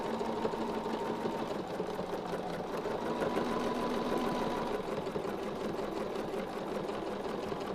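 Sewing machine stitching fabric for an heirloom feather quilting pattern along a template, a steady, continuous mechanical whir with rapid rhythmic needle pulses, close and even throughout.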